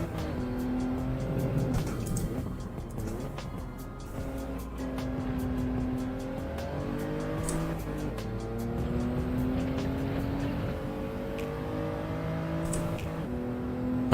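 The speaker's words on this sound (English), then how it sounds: "Hit the rev limiter." A race car engine in Gran Turismo 7 drones at high revs, bouncing against the rev limiter with a steady stuttering whine that rises and falls slightly throughout.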